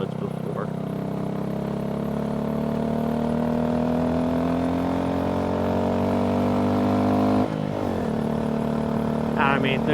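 Honda Grom motorcycle engine running steadily on a canyon ride, a loud continuous mid-pitched drone that rises slightly in pitch, then dips briefly near the end as the rider shifts.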